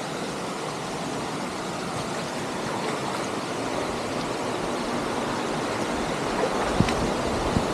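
Steady, full-bodied rush of falling water at Tiryani Waterfalls in Telangana, a constant close roar with no voices, broken only by a couple of faint knocks near the end.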